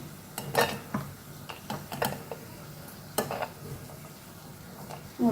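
Moong dal dry-roasts over high heat in a pan for a palm-jaggery halwa, with a soft hiss under repeated scraping and clattering stirs at an uneven rhythm.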